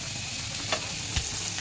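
Onions frying in a pan for a prawn bhuna, a steady soft sizzle with a couple of faint utensil taps, heard alone.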